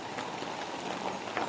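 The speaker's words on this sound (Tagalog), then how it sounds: "Tataksi na ako kasi ang lakas ng ulan." A steady, dense hiss of heavy typhoon rain pours down close by for the whole moment, with faint scattered splashes and patters within the wash and no speech.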